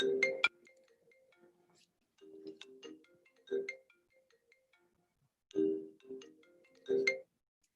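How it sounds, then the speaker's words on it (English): A phone ringtone plays nearby as a short melodic electronic tune, repeating in bursts with brief pauses between them, with no talking. "You heard some phone calls."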